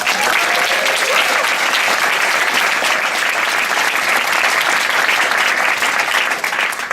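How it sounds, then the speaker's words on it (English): Steady, dense applause from an audience at a Bright Club science comedy night, loud and continuous throughout, with a slight fade at the end. "Give them a round of applause."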